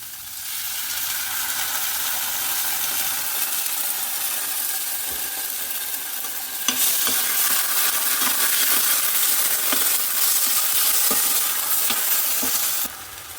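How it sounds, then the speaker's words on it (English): Pureed tomatoes hit a hot pan with green chili for a chickpea curry. A steady sizzle swells louder partway through, with occasional stirring scrapes and clinks, and no voices. "adding the pureed tomatoes"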